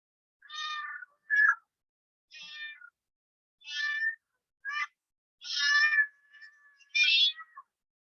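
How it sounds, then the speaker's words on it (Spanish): A cat meows repeatedly, about seven short plaintive calls with brief gaps between them, close by and alone. "Ese es un gato."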